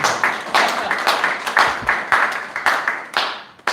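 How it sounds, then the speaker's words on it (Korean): A small crowd at a workplace safety day award ceremony claps for a monthly best-worker award. The close, brisk applause has distinct overlapping claps and fades out just before the end. "박수 부탁드리겠습니다."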